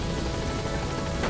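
A steady, dense whirring rotor noise fills the clip, loud and continuous like a nearby helicopter, from the video game Metal Gear Solid V, with no voices over it.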